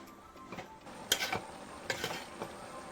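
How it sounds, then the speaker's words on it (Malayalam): Vegetable pieces stirred in a cooking pot, a few irregular clinks and scrapes of a spoon against metal over a quiet background. "അപ്പോൾ ഒന്ന് നമുക്ക് ഇളക്കി കൊടുത്തുകൊണ്ട് യോജിപ്പിക്കാം."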